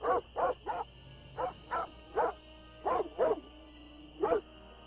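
Dogs in the Nancy Drew: Ghost Dogs of Moon Lake game bark in an irregular series of about ten sharp, clear barks with short gaps, fairly near against a quiet background.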